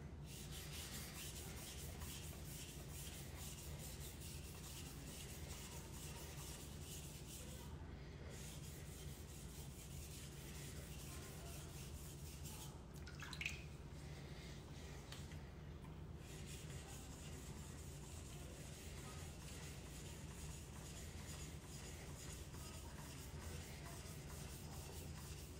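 A knife blade is polished by hand in a crisscross pattern, giving a steady, quiet rubbing and scraping that continues with brief pauses, close and faint.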